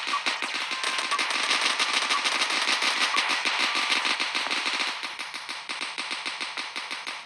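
Rapid automatic gunfire in the Dude Theft Wars video game, a long unbroken burst of evenly spaced sharp shots that shifts to a slightly slower, lighter rhythm partway through, loud and alone without talk.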